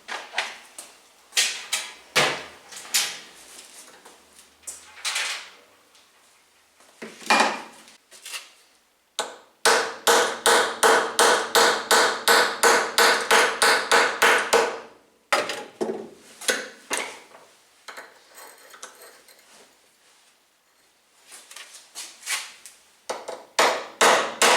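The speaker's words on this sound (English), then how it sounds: "I can clamp the new shaft and knock on it with a hammer without breaking the thread." A hammer knocks on a new wiper shaft clamped in place for a 230 GE, in bursts of crisp taps: scattered strikes, then a long run of fast, even blows, short pauses and more tapping, close and loud.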